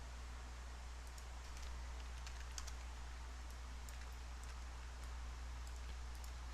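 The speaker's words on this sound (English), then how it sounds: "This is a bit more accurate when I'm typing in the number manually." Scattered, faint keystrokes on a computer keyboard as numbers are typed in, light irregular clicks spread across a steady low hum and hiss of room noise, with no talking.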